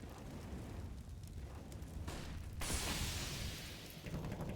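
Several grenades go off in a Counter-Strike match on the Ancient map, heavy booming blasts with a sharp surge midway that then rumbles on, fairly loud, with no talk over it.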